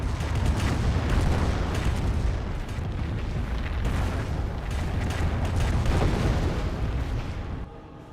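Rocket barrage artillery in Company of Heroes, a dense continuous roar of overlapping explosions that holds loud throughout and tapers off at the end.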